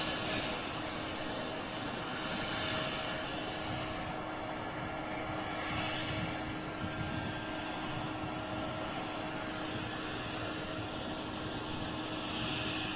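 Virgin Atlantic Airbus A330 jet airliner, a steady distant roar of engines holding level across the whole stretch with a faint hum and no talk.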